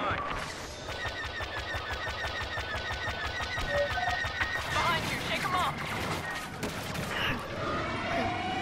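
Rapid bursts of spaceship weapon fire in a space combat video game, a fast regular volley of sharp repeating shots that runs steadily for several seconds, followed by busier crackling blasts and explosions near the end.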